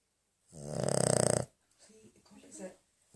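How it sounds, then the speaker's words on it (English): A snoring dog gives one loud, long, rasping snore, followed by quieter irregular breathing and snuffling sounds nearby. "Snoring dog"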